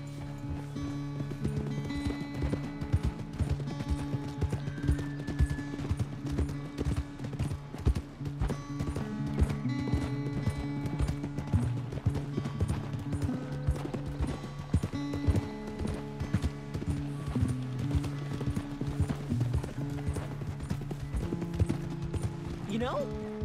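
Horse hooves clip-clop at a steady galloping rhythm in Red Dead Redemption 2, carrying on throughout beneath continuous music and occasional voices.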